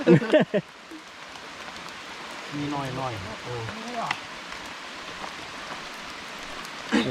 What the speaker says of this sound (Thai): ต้องจอดเซอร์วิสฝนตกเลยครับนี่โอ้ยบรรยากาศ